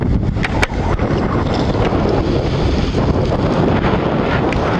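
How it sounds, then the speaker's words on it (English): Strong wind blowing around 30 with rain near Fort Clench on a fishing trip roars and buffets the microphone continuously, with a deep rumble and occasional sharp gusts, and no talking. "I did not expect the wind to be blowing 30"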